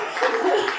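Applause from a congregation at an annual church convention, a short burst of clapping blended with voices and murmur, fairly loud and continuous throughout.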